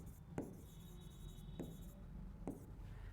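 Chalk or marker strokes from a teacher writing notes on a board during a history lesson, three short scratchy bursts spaced about a second apart, close and moderately quiet over a faint background hum.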